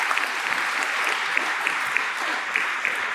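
A large crowd at a high school class day ceremony gives a steady, dense round of applause, continuous clapping filling the hall evenly from start to finish.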